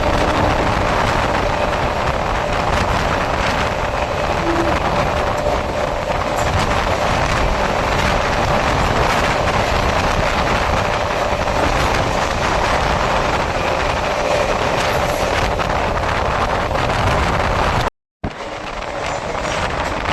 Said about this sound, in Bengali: গড়িয়া স্টেশন ক্রস করছে 100 গতি নিয়ে ক্রস করছে গড়িয়া।